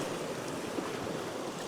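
Ocean waves wash and crash over coastal rocks, a steady rushing surf with wind noise.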